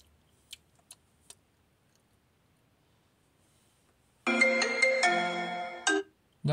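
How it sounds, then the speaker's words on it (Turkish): A phone ringtone sound effect: a few faint ticks, then a sudden loud electronic melodic ring lasting nearly two seconds, cut off abruptly, with another burst starting at the very end. "Ya benim telefonum mu çalıyor?"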